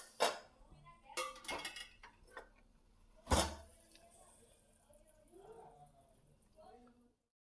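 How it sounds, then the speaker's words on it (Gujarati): A pot lid opens with a few clinks and metallic clatters while stuffed eggplant and potatoes cook, and a voice talks quietly through the quieter stretch. "હવે આપણે ઢાંકણ ખોલીને જોઈ લઈએ."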